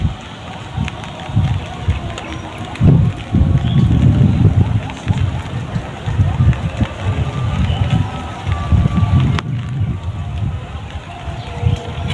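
Rain falling outdoors beside a village canal during a koi fishing trip, a steady, dense hiss lasting throughout with low rumbling underneath.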